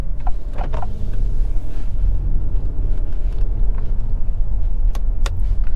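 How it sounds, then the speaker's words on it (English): Interior drive of a 2022 Acura MDX Type S SUV pulling away in comfort mode: a low, steady engine and road rumble with a few light clicks and taps from the cabin. "Pulling out in the 22 MDX Type S, we're in comfort mode."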